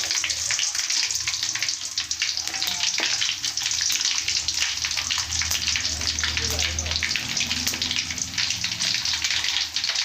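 Dried red chilies and garlic frying in hot oil for a Rayalaseema-style fish curry, giving a dense, loud, unbroken sizzle that carries on close-up for about ten seconds without pause.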